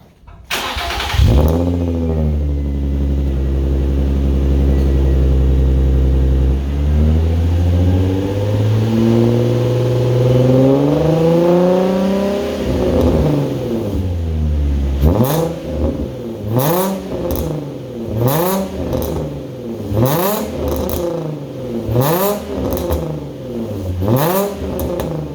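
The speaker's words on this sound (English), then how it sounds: "now let's hear how it sounds right now, so we can compare when we have the other one installed" A Nissan 350Z on its stock exhaust cranks, starts and settles into idle, then is blipped through a string of sharp, rhythmic revs, close and loud.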